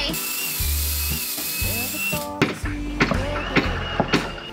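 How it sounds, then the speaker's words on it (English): A power drill whines steadily while boring into a 2-inch-thick wooden boat hull, then stops and gives several short bursts with sharp knocks, close up and loud. "I'm gonna drill, okay?"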